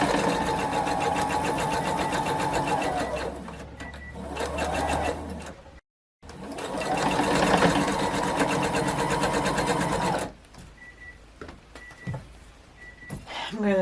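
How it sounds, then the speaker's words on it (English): A sewing machine quilting runs in long, loud, rapid bursts close up, its fast rhythmic whir stopping briefly and restarting, with quieter clicks and handling noises near the end. "I'm going to go ahead and sew this even though my time is up"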